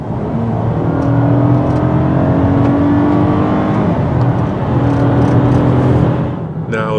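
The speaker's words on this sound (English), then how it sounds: "Best to just take it for a ride and listen to the engine." Steady engine drone inside a 2010 Toyota Camry SE while driving, a smooth, moderately loud hum with gentle rises in pitch as it accelerates, and no talking.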